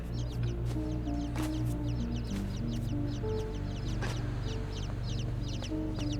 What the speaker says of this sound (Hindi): ओह यहाँ पे तो चिड़िया थी